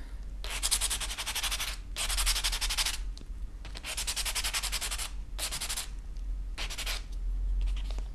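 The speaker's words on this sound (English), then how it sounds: "for this one, I'm using the light side of the reliefing block." A metal jewelry blank is rubbed against the light-grit side of a reliefing block in short, even back-and-forth strokes, a soft, close scratchy sanding sound coming in bursts with brief pauses between passes.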